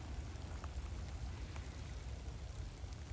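Steady rain falls outdoors on a murky day near a railway bridge, a dense continuous hiss with low rumble and scattered faint drops, even and unbroken throughout.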